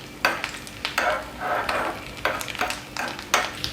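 Coconut pieces fry in ghee while a utensil stirs them, giving repeated scraping strokes every half second or so over a steady close sizzle.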